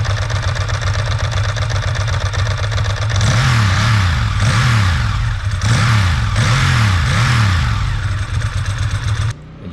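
A 2001 Ducati S4 motorcycle engine runs loud and close, holding a rough idle before revving repeatedly in a series of rising and falling blips, then dropping back abruptly at the end.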